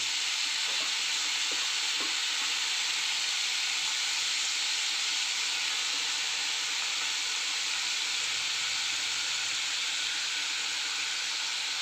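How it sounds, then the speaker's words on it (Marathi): Spinach with garlic fries in a pan, a dense, even hiss of sizzling that holds steady throughout, with a few faint stirring knocks near the start. "आता आपण पालक टाकून घेऊया व्यवस्थित हलवून घ्यायचे"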